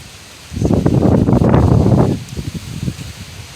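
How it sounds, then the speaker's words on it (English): A strong gust blows through palm trees, making a loud, broad rustling roar that swells suddenly, holds for about a second and a half, then drops to softer, scattered fluttering of fronds. "So the palm trees, they're bowing their heads from the wind."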